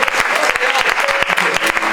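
A church congregation in Honduras claps rapidly and loudly, dense rhythmic hand claps filling the whole stretch with a faint crowd murmur beneath.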